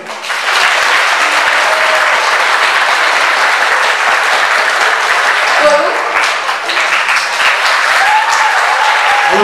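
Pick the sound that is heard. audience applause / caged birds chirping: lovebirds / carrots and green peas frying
audience applause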